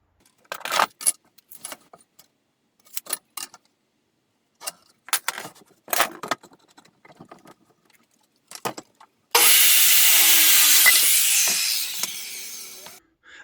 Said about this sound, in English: the next thing I'm going to do is cut some 2x4